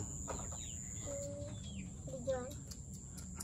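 Pet chickens in a backyard give short clucks and a few chirpy calls over steady outdoor background noise.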